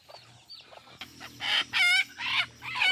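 A chicken sick with white diarrhoea disease clucks and squawks on a farm in several loud, rising bursts, close by, with quieter scratchy sounds between calls.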